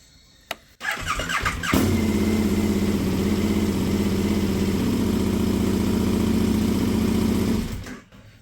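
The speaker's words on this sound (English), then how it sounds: "So if I start the bike up" A 2021 KTM 1290 Adventure R motorcycle engine cranks with a short whir, catches and settles into a loud, steady, throbbing idle close by before cutting off at the end.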